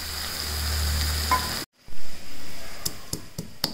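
Spice paste and curry leaves dropped into hot oil in a pan for a sweet and sour ambate saaru, giving a loud close sizzle that cuts off abruptly, followed by quieter frying with a few sharp clinks.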